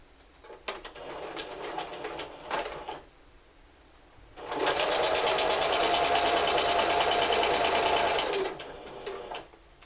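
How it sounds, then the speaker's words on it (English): A sewing machine stitches fabric at a 3/8-inch seam: a few short stop-start bursts of stitching, then a sustained fast whirring run lasting several seconds before it slows and stops, close by. "I'm just going to go ahead and insert my stitching. And I'm sewing at 3/8 of an inch"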